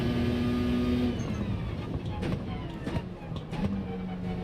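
Race car engine in the video game Gran Turismo 7, carrying a heavy fuel load, droning with steady tones and gear-shift changes, heard close over continuous road and game noise.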